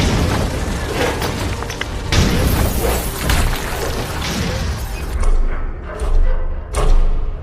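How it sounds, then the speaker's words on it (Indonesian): A stage spotlight explodes in a loud burst and booming crash, followed by clattering, tumbling impacts of falling equipment and debris in a noisy, reverberant space before a panicked audience. "disusul dengan ledakan lampu sorot dan beberapa alat berjatuhan"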